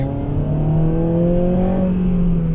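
A 2007 Honda Civic Type-R accelerates onto a motorway, its engine note climbing steadily through the revs in one smooth, loud pull with no talking.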